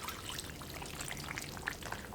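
Home-canned chicken stock poured into a slow cooker gives a soft, steady, faint trickle with a few light drips, and no one speaks.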